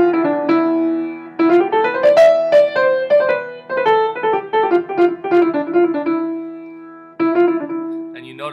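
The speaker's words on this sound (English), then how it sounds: "Phrygian, like I said before, has sort of a Eastern or Middle Eastern feel because of the flat two." A Phrygian-mode melody with an Eastern, Middle Eastern colour from the flat second, played on a sustained melodic instrument that circles the tonic. Notes rise and fall in phrases with a short pause, clear and fairly loud, with no talking.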